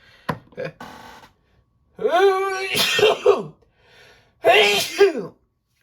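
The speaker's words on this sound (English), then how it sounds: "Sorry for the sneeze." A person sneezes a couple of times, close and loud, with quick breaths and throat sounds in between.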